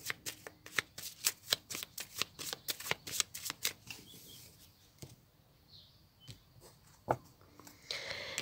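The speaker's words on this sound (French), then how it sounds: "je vais faire une coupe. Avec le tarot que j'utilise pour les consultations" Tarot deck being shuffled and cut: a rapid run of crisp card riffles and snaps in the first half, then sparser soft slides and taps, close and fairly quiet with no talk.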